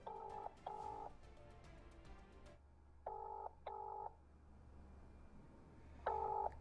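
A telephone ringback tone sounds in paired electronic buzzes, ring-ring, pausing between each pair, heard over a quiet background hum.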